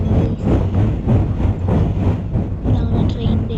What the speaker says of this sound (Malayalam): ട്രെയിനിന്റെ എഞ്ചിൻ